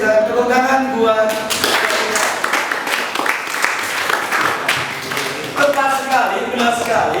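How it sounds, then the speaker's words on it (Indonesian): Classroom audience applause during a genetics lesson, a dense wash of clapping swelling across the middle seconds and fading as talk returns at the start and end. "silakan tepuk tangan buat"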